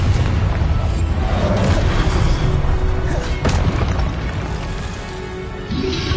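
Spell blasts in the PlayStation 5 game Hogwarts Legacy: a dense run of booming, crashing impacts and fiery bursts, loud and close, with one sharp crack standing out midway over a constant rumbling battle bed.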